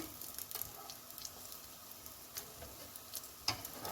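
Blinis fry in a pan that is only moderately hot, giving a soft, steady sizzle with faint crackles and a few light ticks, no talking.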